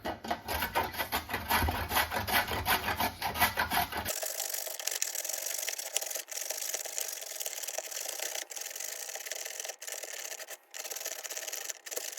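A carrot rubbed against a grater, with fast rhythmic rasping strokes close by for about four seconds, followed by a quieter, thinner scraping texture and a few scattered clicks.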